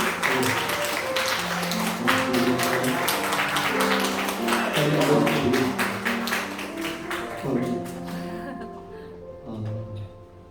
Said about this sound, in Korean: 박수 인사할까요?